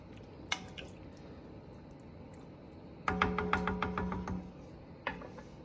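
Red beans and chicken stock get stirred in a pot, a quiet run of wet knocks and sloshing clunks from a spoon against the pot, with a couple of isolated taps before and after, no talk.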